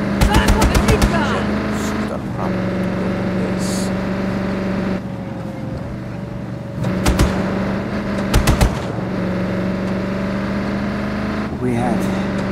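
Heavy mounted gun in Just Cause 3 firing in several rapid bursts over a steady engine drone, with a voice talking in between.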